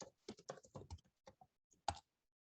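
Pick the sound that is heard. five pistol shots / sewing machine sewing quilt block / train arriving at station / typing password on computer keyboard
typing password on computer keyboard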